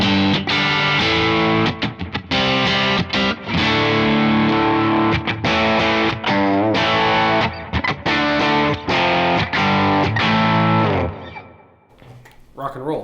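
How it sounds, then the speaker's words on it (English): Electric guitar through a Kemper profile of a Blues Breaker overdrive pedal at a higher gain setting: loud, continuous crunchy chords and riffs with frequent rhythmic breaks, playing alone before fading out near the end. "So it's just the Blues Breaker side, but with a little more gain than the first one."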